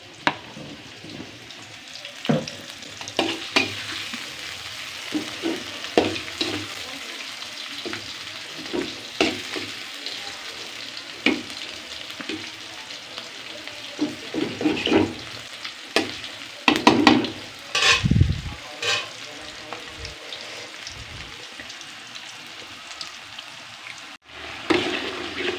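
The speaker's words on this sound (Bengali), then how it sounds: "রসুন বাটা, জিরা বাটা, অল্প করে আদা বাটা দিয়েছি, ধনিয়া গুঁড়া, ঝালের গুঁড়া আর হলুদের গুঁড়া দিয়ে মশলাটা সুন্দর করে কষিয়ে নিচ্ছি" A spice paste of garlic, cumin and ginger with coriander, chilli and turmeric powders fries in oil for a koi fish curry, stirred with repeated scraping strokes over a steady sizzle, close and fairly loud, with no talking.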